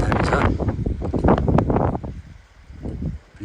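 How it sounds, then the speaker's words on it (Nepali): Gusty mountain wind buffets the microphone near a flowing stream on the Annapurna Base Camp trek, loud rushing bursts that ease off, then pick up again. "खोला बगिरहेछ हावा चलिरहेछ"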